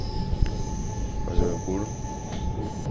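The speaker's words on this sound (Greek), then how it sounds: "Είμαστε εδώ πέρα, παιδιά, τώρα μέσα στο τρένο." Inside a moving train heading to the airport in Rome, a steady rolling rumble with wheel squeals and clanks, fairly close, under a near-empty carriage.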